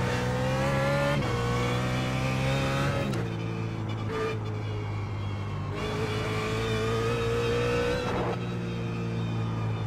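A BMW GT3 race car engine in iRacing at Oran Park drones loud and close throughout, its pitch climbing through the revs and dropping sharply at several gear changes.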